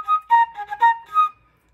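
A solo flute plays a short echo phrase, about six quick, clear detached notes within a second and a half, close and unaccompanied.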